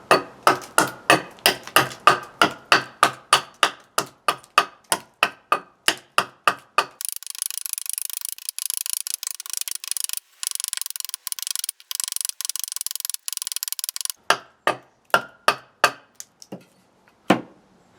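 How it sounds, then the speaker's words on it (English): Axe chopping a eucalyptus wood bowl, steady rhythmic close thuds roughly twice a second, then a stretch of scraping and rubbing hiss from the axe side, then a few more chops. "you may see me kind of chopping away like this and then sort of coming down and literally just rubbing the side of the axe against it"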